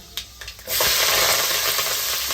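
Fenugreek seeds hit hot oil in a pan and break into a loud, steady sizzle and hiss after a few light clinks, close and continuous, with no talk.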